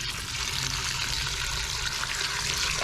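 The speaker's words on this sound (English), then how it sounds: "And in goes the 1 litre of water." Water pours steadily from a container into a vessel holding cactus material, a close, continuous liquid rush with trickling that lasts throughout.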